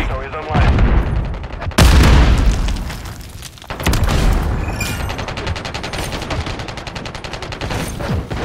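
Grenade blast in Call of Duty MW3 gameplay: a loud, close boom near two seconds swells and decays amid heavy gunfire, with another sharp burst later and rapid automatic fire rattling throughout.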